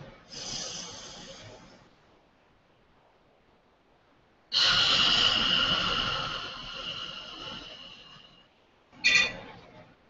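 Slow, meditative breathing: a long, airy inhale, a pause, then a longer, fuller breath, and the start of another at the end, heard close up and with no talking.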